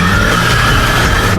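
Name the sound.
ambulance car speeding away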